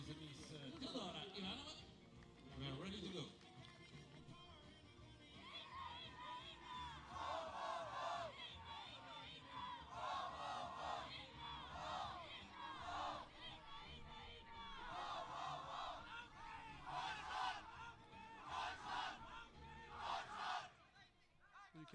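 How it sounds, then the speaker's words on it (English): Two large crowds at a youth archery finals match cheer and shout for their teammates in repeated swelling bursts, fairly distant and faint, with a voice talking over them. "You can probably hear the two big crowds. They're cheering for their teammates"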